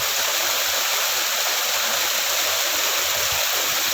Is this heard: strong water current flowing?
yes